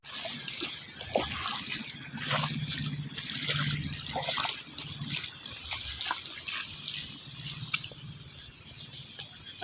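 Water running across a farm field, a steady trickling, splashing flow heard close and continuous, with faint birds in the background and occasional voices.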